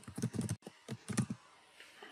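Quick bursts of computer keyboard typing while code is written, a rapid cluster of close keystrokes, a short pause, then another burst fading into quiet.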